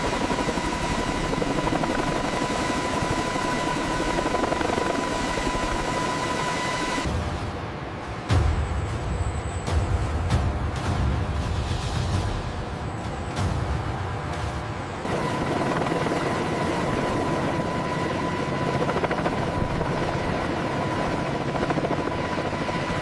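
A Z-20 utility helicopter in a flight test gives a loud continuous rotor and turbine roar, with a clipped, shifting stretch in the middle before the steady drone returns.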